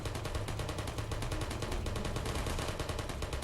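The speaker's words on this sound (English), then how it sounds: "After 10 bullets or so, those turrets should be shutting down." Portal sentry turrets spray bullets in a rapid, unbroken stream, a loud steady rattle of closely spaced shots that carries on without pause from start to finish.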